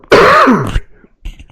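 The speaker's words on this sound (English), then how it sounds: "Oh, I coughed." A single loud, close throat-clearing cough during a casual conversation about movies, a harsh voiced rasp lasting about half a second, followed by a brief quieter sound.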